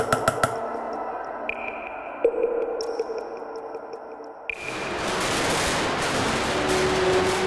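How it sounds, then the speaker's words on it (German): Fireworks and firecrackers at the Fallas festival in Valencia: a few sharp bangs at the start, then whistling tones, followed by a dense, continuous crackle and roar of exploding powder that fills the rest of the scene. "Eines der Grundelemente des Festes ist nämlich das Knallpulver in verschiedensten Formen und Varianten."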